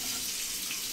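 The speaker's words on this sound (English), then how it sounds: "I'm gonna temper it under the hot water" Hot water running steadily from a tap, used to warm a stainless steel double-edged safety razor; a continuous close hiss and splash with no talk over it.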